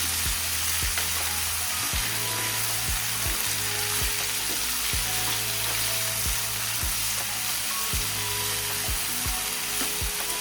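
Chopped sweet potato pieces fry with asafoetida in a pan, giving a steady loud sizzle with regular stirring scrapes and clicks throughout.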